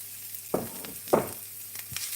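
Garlic and onion sizzling in a pan over low heat for mushroom tacos, with a few brief stirring clatters standing out over a quiet, steady fry.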